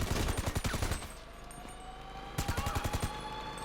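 Enemy gunfire during a Cayo Perico heist finale in GTA V: a loud burst of rapid shots, a short lull, then a second volley of repeated shots.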